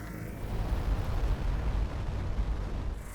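Deep rumbling explosion in the space game Starcom: Unknown Space, a low heavy roar that holds at steady loudness for about three seconds.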